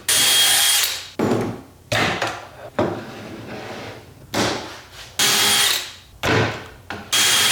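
A power drill bores pocket holes in wood boards for garage cabinet shelves, coming in repeated loud whirring bursts of about a second each, separated by short pauses.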